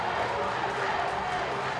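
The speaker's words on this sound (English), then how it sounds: "And the crowd's getting into it." Hockey crowd in an arena roaring after a USA goal in a U20 bronze medal game against Slovakia, a dense sustained wash of cheering and yelling at steady loudness.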